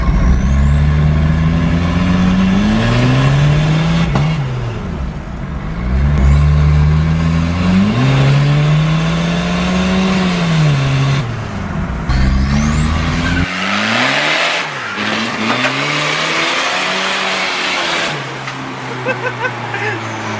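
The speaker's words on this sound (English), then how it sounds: "We're prepping your old Volvo 760 Turbo to take it to the dyno." A Volvo 760 Turbo engine is revved hard in repeated long pulls, each swelling up in pitch and dropping back. The sound is loud and close, with talking over the later revs.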